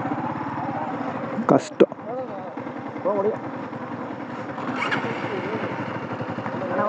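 A motorcycle engine runs steadily throughout, with a low, continuous idle-like drone, while people talk over it.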